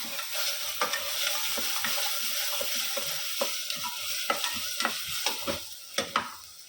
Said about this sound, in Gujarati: લસણ મરચાંની પેસ્ટ નાખીશું. હવે એને મિક્સ કરીશું.